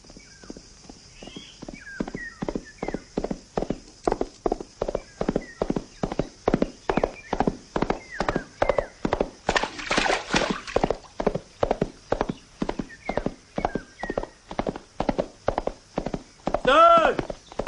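A single horse's hooves clip-clop on hard ground in a steady, even walking rhythm for many beats, close and clear, ending in a horse's whinny.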